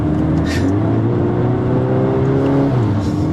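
Volkswagen Golf R 2-litre turbocharged EA888 engine pulling hard under acceleration, a steady rising drone with rising harmonic tones, heard close from inside the car.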